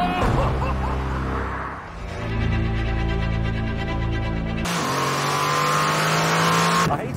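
A Mercedes-AMG car being driven fast, its engine note rising and shifting through the gears with a steady loud roar and road noise, close and continuous.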